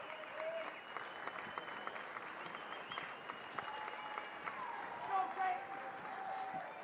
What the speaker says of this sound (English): standing applause here.